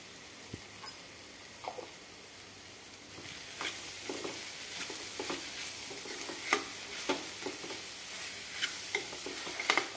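A spoon stirs spices and garam masala in a frying pan, with a steady low sizzle underneath and repeated light scrapes and taps in an uneven rhythm.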